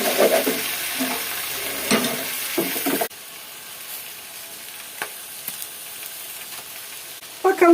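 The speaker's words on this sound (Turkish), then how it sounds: "Şimdi ikinci parçayı pişiriyorum." Thin slices of döner meat fry in a hot pan with a strong sizzle for the first few seconds. The sound then drops to a faint background hiss, broken by a few soft clicks and a brief return of sizzling at the end.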